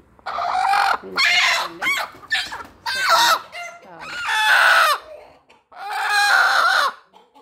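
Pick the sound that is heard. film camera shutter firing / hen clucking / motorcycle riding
hen clucking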